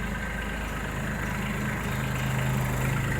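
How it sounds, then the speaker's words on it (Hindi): Small Kubota farm tractor engine running steadily at close range, a continuous low rumble with a faint rising tone near the end and no voices. "ये देख लो ट्रैक्टर तैयार होकर आया।"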